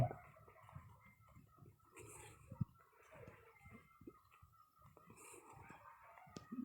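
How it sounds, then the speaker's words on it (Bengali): A rooster crows faintly and far off at dawn on the bank of the Bishkhali river, with soft bird chirping and quiet outdoor ambience around it. "মোরগ ডাকছে"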